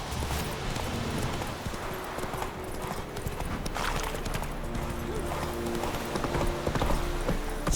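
Horse hooves clip-clop steadily and continuously in The Witcher 3, a close trotting rhythm over dense game ambience with no clear whinny.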